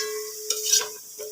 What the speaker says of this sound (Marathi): फुल गॅसवरच आपल्याला जास्त तळून घ्यायचं एकदम खुसखुशीत झाला पाहिजे